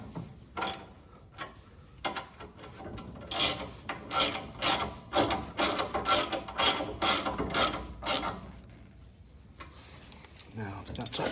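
A ratchet tightens bolts on the wheels of a STIGA Tornado 7108W ride-on mower, giving rapid, close, repeated clicking bursts in uneven runs.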